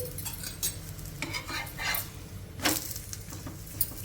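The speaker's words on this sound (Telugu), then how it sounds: "ఇంక ఈ విధంగా ఇంకొక సైడ్కి ఇలా తిప్పుకుంటూ మంచి కలర్ వచ్చే వరకు ఫ్రై చేసేసుకోవాలి" Moringa ragi roti with onions frying in a pan while it is turned over: a steady close sizzle with irregular scraping and stirring taps, no talking.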